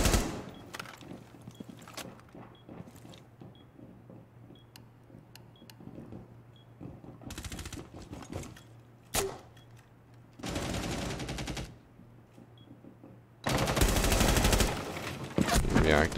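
Bursts of automatic gunfire in the video game Rainbow Six Siege, several separate loud volleys a second or so long amid quieter ticking and footstep-like sounds, with speech occasionally underneath.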